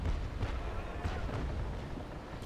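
Naval Action Legends ship cannons fire a broadside: a rolling run of heavy booms and rumbling blasts that keeps going throughout, loud and dense.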